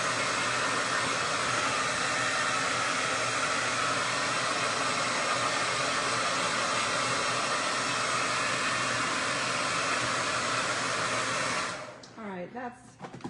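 A hair dryer blows steadily and loudly on wet paint on an Easter carrot craft, a continuous broadband whoosh lasting about twelve seconds before switching off, leaving brief handling noises.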